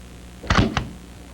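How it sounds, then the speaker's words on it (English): An SKS carbine's bolt is pulled to the rear: two quick, close mechanical clacks in rapid succession, alone against a quiet background. "To clear this SKS carbine, first pull the bolt to the rear."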